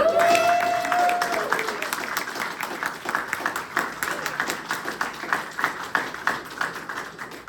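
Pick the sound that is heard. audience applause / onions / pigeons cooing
audience applause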